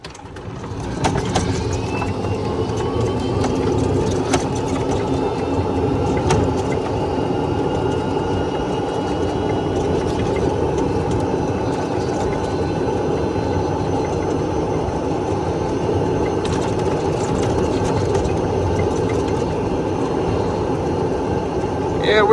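An EZGO golf cart running a Navitas TSX3.0 controller and 48v lithium battery cruises down a straight road, a steady loud rolling drone with wind and road noise that barely varies throughout.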